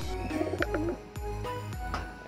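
Racing pigeons in a loft, stock birds, make low repeated coos with a few higher chirps, fairly close and steady, with no talking over them.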